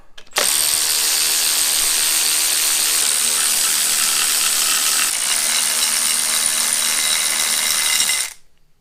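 A ratchet working on the AC bracket bolts of a 2008 Subaru Impreza during intake manifold removal for a head gasket job. It makes one loud, dense, unbroken mechanical whir for about eight seconds, then stops abruptly.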